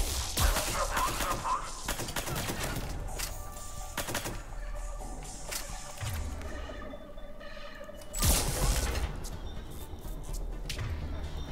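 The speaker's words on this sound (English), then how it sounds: "Gunfire on the Silver Sun Strip" Bursts of rapid gunfire crackle repeatedly in Mass Effect 3, with sharp shots, rattling volleys and a loud crash amid game sound effects.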